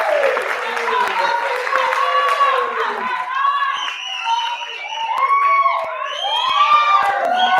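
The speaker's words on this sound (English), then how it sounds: "Keep on clapping as they come," A festival crowd at a democracy and human rights event claps and cheers loudly for young performers, with high excited shouts and whoops, many children's voices among them, rising and falling over scattered clapping throughout.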